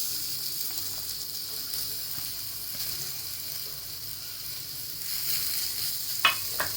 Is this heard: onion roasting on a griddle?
yes